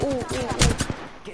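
Gunfire in a video game, a quick burst of several loud, close shots with a voice speaking over them.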